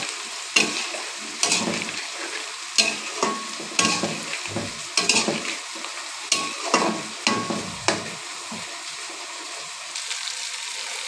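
Spice paste frying in a pan while a spoon stirs it repeatedly, giving a steady sizzle punctuated by regular scraping strokes, close and moderately loud.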